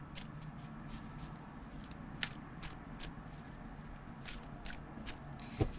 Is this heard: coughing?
no